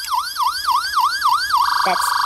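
Fisher-Price Imaginext toy ambulance siren, a loud close electronic wail rising and falling about six times before it switches to a steadier high tone, with a short click near the end.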